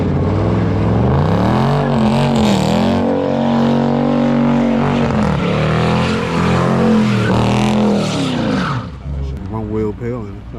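An Infiniti G37 does a one-wheel peel, its engine roaring loud and close with rising and falling revs and tire spin, while people talk excitedly over it.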